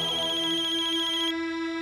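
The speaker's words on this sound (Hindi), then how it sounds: "कल्याणी का फोन" A phone ringtone plays a repeating bright electronic melody, loud and close, then switches to a steady sustained tone near the end.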